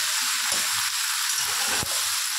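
Carrots and long beans fry in a pan with a steady, close hiss of sizzling oil, broken twice by brief knocks of stirring.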